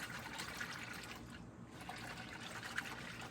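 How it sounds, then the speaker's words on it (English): Water in a bucket churned by hand to work up soap bubbles for wetting white wool fiber, a steady, close sloshing wash with no break. "And I want to agitate the water so I have my bubbles."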